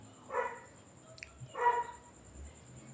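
Street dogs give two faint barks about a second apart, distant and quiet against a low background hum.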